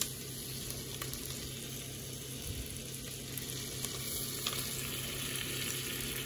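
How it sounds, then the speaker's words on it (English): Beef short ribs searing in a hot pan, a constant dense sizzle holding evenly from start to finish with faint clicks, close and unbroken, no voices. "get your pan really searing and then you want to pop your beef short ribs in"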